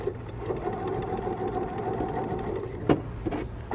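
Steady rapid whir of a home sewing machine fitted with an open-toe foot, stitching pieced quilt fabric, running continuously at moderate level with a couple of brief clicks near the end.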